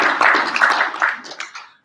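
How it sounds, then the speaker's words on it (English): Audience clapping at a live toy convention show, a short burst of close, crisp hand claps that thins out and fades within about two seconds. "Guys, give Ace a round of applause"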